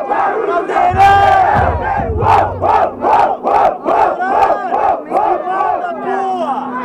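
Crowd at a Brazilian freestyle rap battle roaring and chanting in loud, rhythmic bursts of shouting, a dense mass of voices pulsing in unison close by.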